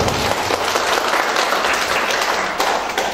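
Dense, loud applause from an audience at a company's fifth-anniversary celebration, steady and continuous across the whole stretch with no pauses.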